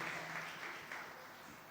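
A church congregation at Sunday Mass claps briefly to welcome a newly married couple, a soft, fairly distant wash of applause that tapers slightly over a couple of seconds.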